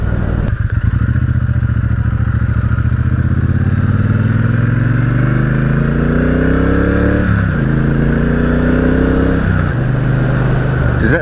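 A Triumph Speedmaster motorcycle with a 270-degree firing order revs hard and accelerates for a long, loud, close run, pitch climbing through the gears with brief dips at each shift.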